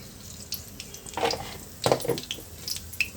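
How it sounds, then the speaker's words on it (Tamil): Mustard seeds and fennel spluttering in hot oil for a prawn curry, scattered faint crackles and pops with a few louder bursts, no talking. "எண்ணெய் ஊற்றி ரொம்ப நேரம் ஆகிடுச்சு கொஞ்சமாக கடுகு சோம்பு கொஞ்சமாக போட்டுக்கலாம்"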